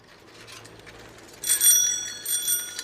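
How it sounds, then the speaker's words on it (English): A bicycle bell in a kids' cartoon animation rings brightly several times in quick succession about halfway through, clear and fairly close, after a quiet stretch of soft background tone. "A bicycle."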